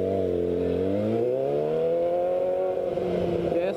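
A motorcycle pulls away from a stop, its engine rising in pitch as throttle opens and easing slightly near the end, loud and close with a continuous droning whine.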